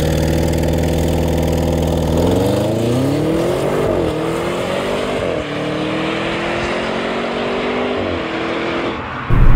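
An Audi RS 7 Sportback with 600 hp launches hard under launch control, its engine roaring up through rising revs with gear shifts stepping the pitch, loud and close from inside the car.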